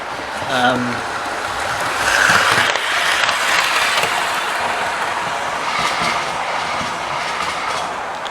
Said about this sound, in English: I do like running this train a lot